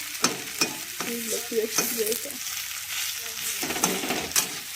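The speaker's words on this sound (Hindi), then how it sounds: "प्याज यहाँ पे जब तक लाल हो रहा है" Onions fry in a pan and get stirred while a chicken litti meal is cooked at home, giving a steady close sizzle with repeated scraping strokes of the spoon, no talking.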